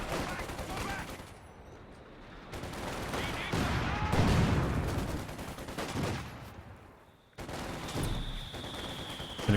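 Machine gun fire in a Company of Heroes 2 two-versus-two battle, with bursts of automatic shooting and distant battle noise under continuous talk.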